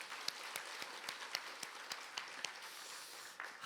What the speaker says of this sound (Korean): 크게 한 박수 한번 하도록 하겠습니다